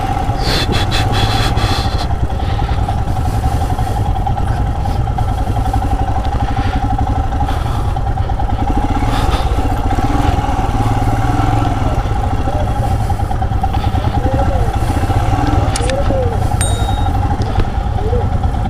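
Himalayan motorcycles crossing one by one along a muddy offroad trail at Kakadampoyil give a loud, steady engine drone and clatter throughout, with voices talking over it.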